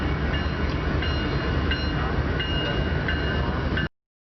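Freight locomotive 7697 rumbles past in a Kansas City rail yard, a loud, continuous close roar of engine and rolling wheels with rhythmic clanks, cutting off abruptly.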